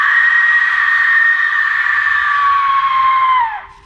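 A death whistle lets out a loud, sustained, horrible screech, like a shrill human scream, that holds steady for about three seconds, drops slightly in pitch near the end, then cuts off abruptly.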